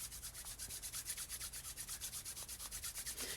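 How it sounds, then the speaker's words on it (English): A pair of hands rub briskly together to build warmth, making a quick, even back-and-forth swishing rasp that repeats rhythmically and close up with no talk. "let's just rub our hands together"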